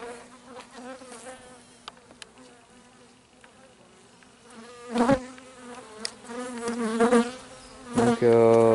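Bees and Asian hornets buzz steadily around honeybee hives at the end of the season, a close droning hum with louder passes swelling in the second half.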